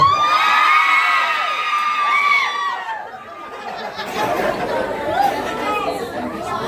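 A large crowd at a Filipino political rally in Oranbo shouts, cheers and whoops loudly, the roar swelling with children's high shouts and chatter throughout, then settling into a dense, scattered hubbub.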